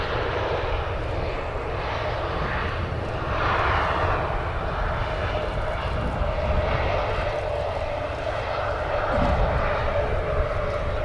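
An Icelandair airliner in a brand new livery at Manchester Airport gives a steady, moderately loud engine rumble with a rising swell midway, and voices are faintly present.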